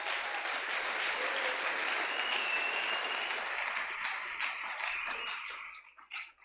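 A church congregation applauds in a strong, steady burst of clapping that gradually thins out and trails off into a few last claps near the end.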